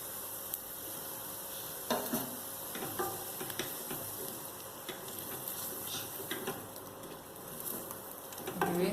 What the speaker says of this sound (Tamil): நல்லா வணக்கி விட்டுக்கலாம்.